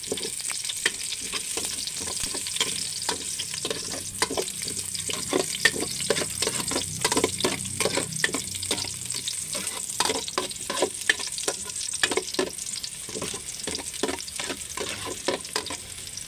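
Ginger stir-fried in a pan, steady soft sizzling broken by frequent rhythmic scraping stir strokes, moderately quiet and close, with no talking.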